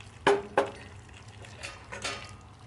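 Chicken and pork adobo with pineapple and its juice being stirred in a pot: two sharp scrapes and clinks of a utensil against the pot, then softer wet stirring and sloshing, fairly quiet with no talk.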